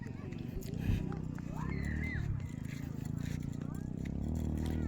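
Horses on a communal ranch in Bukidnon, with hooves clip-clopping and a brief whinny. The animals sound moderately close over steady outdoor background noise, and people talk intermittently throughout.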